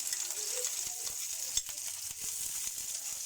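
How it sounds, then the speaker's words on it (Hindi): Sliced rounds of garlic sizzle steadily in hot oil for a lentil daal, a dense, even crackle with small pops, fairly quiet and close, with no talking. "अब हम इसमें लहसुन के जवे जो गोल गोल काटे थे वो डाल देते हैं।"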